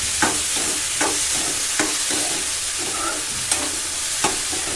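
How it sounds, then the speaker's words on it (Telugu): Cucumber pieces with salt and turmeric cook in a pan for a dried red chilli cucumber chutney, a soft steady sizzle broken by regular scraping strokes of a spoon stirring them, close up, without speech. "మొత్తం అంతా కలిసేలా కలుపుకొని దోసకాయని మగ్గించండి."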